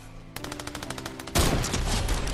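Fortnite gunfire from players fighting, a rapid burst of automatic shots followed by a louder, denser spray of fire, moderately close with no talk.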